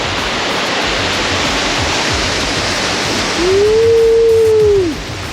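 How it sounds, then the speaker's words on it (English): Waterfall in the Faroe Islands, a steady broadband rush of falling water filling the scene throughout, with a brief tonal whistle-like sound rising and fading near the end. "This waterfall"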